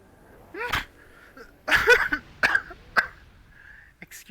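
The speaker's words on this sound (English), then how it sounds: "Bit of a cough there." A person coughs several times in short, sharp bursts, close and fairly loud, with quiet pauses between them.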